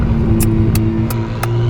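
A Novitec-tuned McLaren Artura with a new exhaust system and 735 hp runs loud and close, its engine giving a dense, steady drone with a few brief sharp crackles over it.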